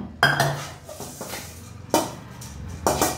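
Roasted toor dal tipped into a metal pressure cooker and rinsed, giving a few sharp clanks of steel vessels and utensils at about a quarter second, two seconds and near the end, with softer clatter and scraping in between.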